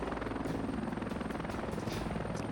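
A twin-rotor, Chinook-like helicopter in the game Heliborne drones with a loud, steady thrumming rotor beat and engine whine that fills the whole stretch alone.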